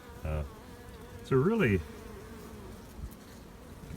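Honey bees buzz around a hive of colonies that have been working the almond nectar flow, a steady outdoor drone heard up close beneath brief bits of someone talking.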